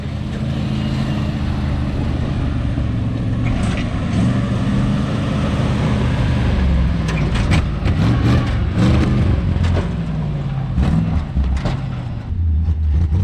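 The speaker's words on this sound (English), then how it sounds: "Nice little backfiring going on" A 1956 Chevrolet tow truck, long abandoned, drives off-road with its engine droning loudly and popping with several sharp backfires mid-run.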